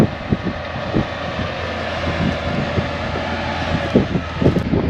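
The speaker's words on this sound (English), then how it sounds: "now we have the tractor out, we backed it up, put the chain on the cultivator up to the tractor" A tractor engine drones steadily as the machine pulls a chained cultivator out of mud, with wind buffeting the microphone and occasional thumps and knocks over the rumble.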